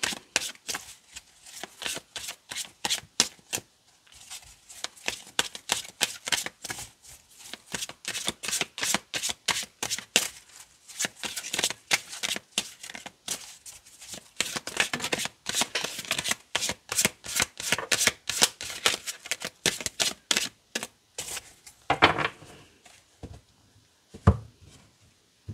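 A deck of tarot cards shuffled by hand in a long run of rapid, crisp riffling bursts and flicks, close and fairly quiet, with no talking.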